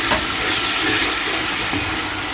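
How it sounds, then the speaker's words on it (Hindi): Spices frying for Pakistani beef degi pulao, a loud continuous sizzling hiss close up, steady for the whole moment with no talk. "मसाले डालने के बाद उसको अच्छे से भूनना है"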